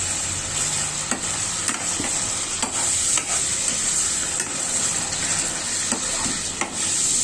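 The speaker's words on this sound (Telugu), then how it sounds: "ఇది కూడా మంచిగా ఆయిల్ వదిలే వరకు ఫ్రై అవ్వనివ్వాలండి." Chili tomato paste made from tomatoes and green chilies frying in oil for chicken dum biryani, a constant close sizzle with occasional scraping stirs at irregular intervals, no voices.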